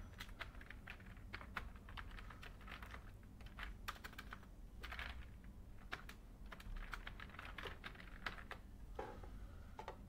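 Typing text on a computer keyboard, a steady run of close, rapid key clicks with occasional heavier strokes, continuous for about ten seconds with no talking.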